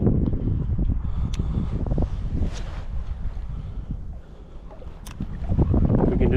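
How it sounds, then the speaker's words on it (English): Wind buffets the microphone out on a lake during float fishing, a steady low rumble with rustling gusts that swell again near the end, with faint boat and water movement underneath. "I'm still kind of dealing with the wind."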